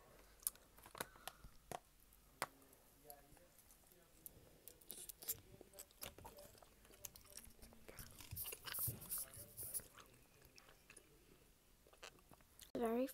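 Quiet, close mouth sounds of someone chewing a Trolli gummy burger candy: soft sticky squishes and smacks with scattered clicks, recorded intimately with little else.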